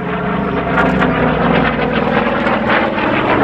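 A WWII-era FG-1D Corsair propeller fighter performs an aerobatic demonstration at an air show, its piston engine roaring loud and steady throughout with a broad, rumbling drone.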